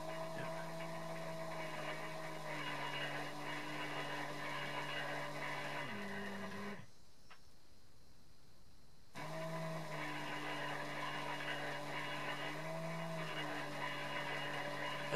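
DIY e-bike hub motor clamped to a bench, spinning under throttle at about 49.8 volts, a steady electric whine and hum that shifts pitch, drops away briefly midway, then spins back up.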